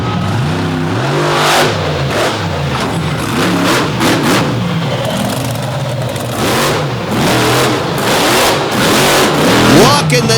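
An overdrive truck at an Illinois competition revs hard, its engine climbing and falling in repeated loud surges over rough ground, with an announcer talking over it.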